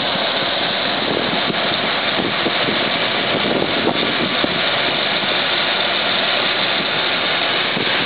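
A 2003 Ford Explorer engine with 186,000 miles idles steadily nearby, a continuous even rumble with faint vibration and no voices.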